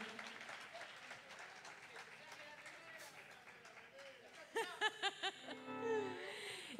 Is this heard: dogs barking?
no